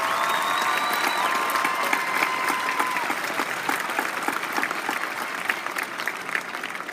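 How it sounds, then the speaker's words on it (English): A graduation crowd at Paloma Valley High School applauds Master Sergeant Hess, a broad sustained wash of clapping with a few cheers, loud and continuous before slowly thinning. "Would everyone please give Master Sergeant Hess a round of applause for his support and his efforts."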